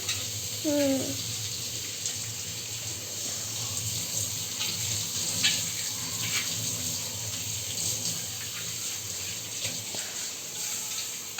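Running water washing out a new clay water pot (matka), a continuous close splashing gush from a tap, with a brief voice near the start.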